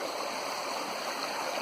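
A creek runs steady and full about an hour and a half after rain, cutting through a deep, muddy channel and eroding its banks. The rushing water is continuous and even throughout.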